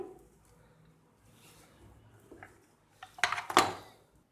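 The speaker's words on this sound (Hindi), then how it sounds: "उसके लिए आधा किलो मटन मैं प्रेशर कुकर में डाल रही हूँ।" Half a kilo of mutton goes into a metal pressure cooker for beetroot gosht, the meat tumbling in with a short burst of close metallic clinks and clatter near the end after quiet handling.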